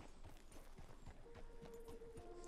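Horses walk along a trail ride in the video game Red Dead Redemption 2, their hooves clip-clopping softly in a steady, overlapping rhythm at low volume.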